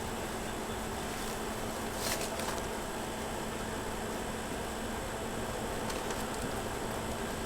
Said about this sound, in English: Not a ton of bees up here,